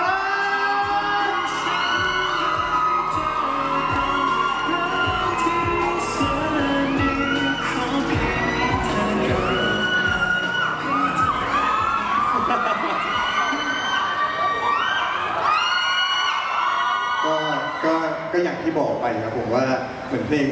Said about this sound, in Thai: พวกเราขอเสียงปรบมือให้กับคุณตุลหน่อย